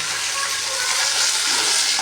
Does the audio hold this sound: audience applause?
no